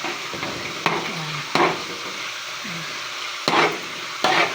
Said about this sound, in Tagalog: Halo mga guys hanggang sa mapagod ang kamay.